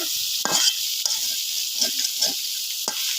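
Chopped onion, garlic and leafy greens fry in oil over a clay stove, a steady bright sizzle with several short stirring scrapes and clinks spaced through it.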